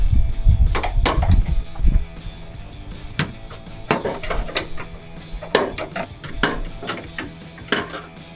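A 3/4 inch wrench works the top bolt of the rear shock on a 2019-2024 RAM 1500, producing a series of sharp metallic clicks and clanks at an uneven pace, close by, with a heavier clunk early on.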